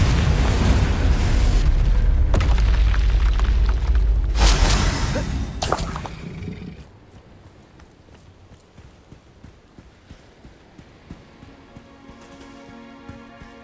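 Confringo fire spells exploding in the video game Hogwarts Legacy, a run of loud crackling blasts and booms over several seconds, then the battle noise drops to a quieter clattering, dripping background.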